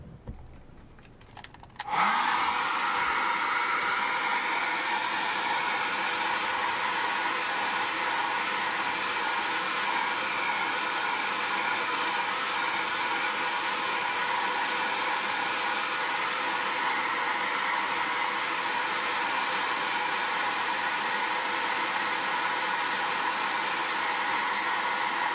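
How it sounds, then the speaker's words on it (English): A hair dryer switches on after a brief quiet moment and blows steadily at full power, a loud, close, continuous whooshing hum used to dry paint. "I think I'm going to blow dry this"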